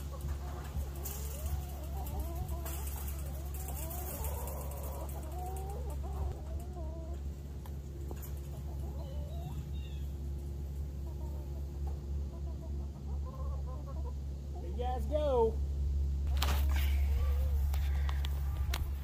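Chickens cluck and murmur inside a coop pen on grass, several birds calling softly at moderate distance over a steady low hum, with a brief louder run of clucks near the end.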